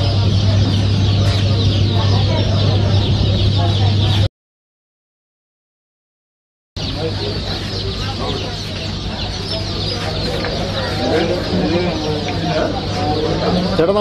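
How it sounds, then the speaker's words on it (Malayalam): Karinkozhi black chickens cluck busily and continuously at a crowded Mannuthy hatchery, close and loud, with people talking among them and a brief complete silence partway through. "ഇത് ഏതാണ് കോഴികൾ? കരിങ്കോഴി."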